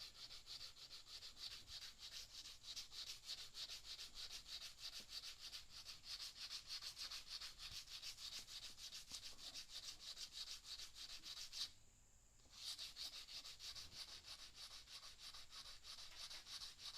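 Steady, close rasping of an abrasive worked back and forth on the metal end bearing of an early Victor phonograph spring barrel, continuous for most of the span with a brief pause near the end before the scraping resumes.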